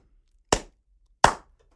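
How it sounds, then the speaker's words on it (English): A slow clap: two sharp, distinct hand claps spaced about three quarters of a second apart, close and clear against silence. "I'm going to give Ben a slow clap."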